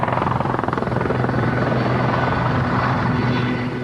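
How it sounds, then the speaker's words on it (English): A helicopter flies close by with a loud, steady rotor chop and turbine whine that holds throughout, no voices over it. "the helicopter continued to bring other specialists to the islands"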